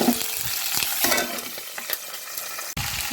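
Green chillies and tempering spices crackle and sizzle in about three spoons of hot oil for tindora fry, with steady close frying broken by a few stirring scrapes and a brief pause near the end.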